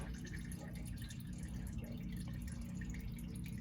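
Engine oil dripping steadily from a single cab pickup truck during a home oil change, a continuous close patter of drops with a low background rumble.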